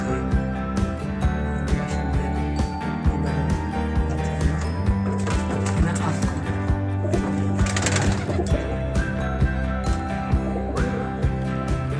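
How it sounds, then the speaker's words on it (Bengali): Pigeons in a loft keep up a continuous busy murmur of cooing, wing flutters and shuffling, close and fairly loud throughout, with a brief burst of flapping in the middle. "এখন আমরা এই কবুতরগুলো আপনাকে এইভাবেই দেখা দেবো"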